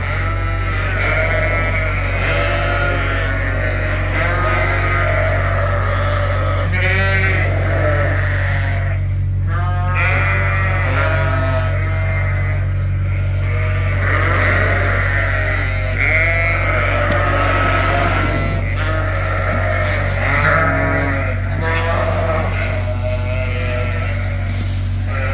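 Sheep on a farm bleat in overlapping, wavering calls throughout, several animals near and far, over a constant low engine-like hum.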